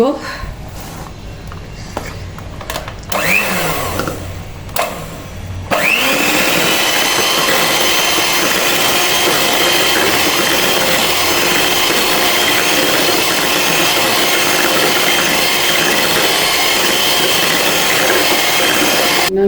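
Sweet potato cake batter with added cocoa powder is mixed, with a few seconds of clattering handling followed by a loud, steady, continuous whirr that holds without a break to the end.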